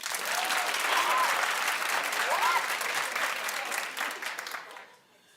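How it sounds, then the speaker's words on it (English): Studio audience clapping on a talk show, loud sustained applause with a few cheering voices, fading away near the end. "Clap if you missed the halftime."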